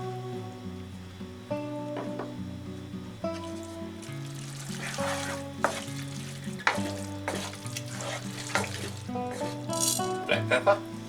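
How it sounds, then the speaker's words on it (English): Carbonara is stirred in a pan, a quiet clattering and scraping with a soft sizzle underneath, over a light musical background. "Stir this in."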